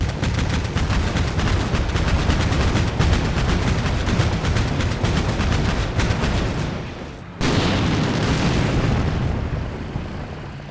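Rapid, dense gunfire and explosions from the wargame Combat Mission Black Sea fill the whole stretch, a continuous loud barrage with booming impacts, briefly dipping near the seventh second before resuming at full intensity.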